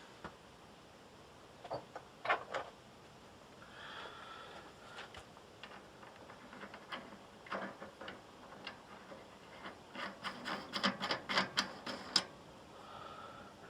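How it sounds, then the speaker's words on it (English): A metal nut is threaded by hand onto a universal grinder arbor in a workshop, giving irregular faint clicks and ticks that quicken into a rapid cluster near the end. "See if our nut will go on."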